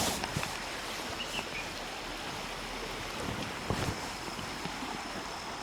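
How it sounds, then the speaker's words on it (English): A river flows outdoors with a steady broadband rush of water, close and continuous, mixed with some wind buffeting the microphone and no talking. "you can listen to the sound of the river with me"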